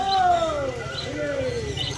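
Soft, low coos from homing pigeons repeat in gentle rising-and-falling calls, close by at a pigeon market, with faint chirps and a steady background murmur.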